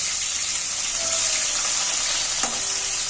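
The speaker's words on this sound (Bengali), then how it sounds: "এই তেলের মধ্যেই ক্যাপসিকাম আর পেঁয়াজ আমি ডুমুডুমু করে কেটে রেখেছি সেটা একটু ভেজে নেব" Diced onion and capsicum frying in oil, a loud, steady hissing sizzle throughout, with a brief stir-like scrape near the end and no voices.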